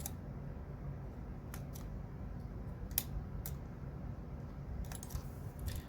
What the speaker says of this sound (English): Alright, I'm gonna like see if I can snip all this off.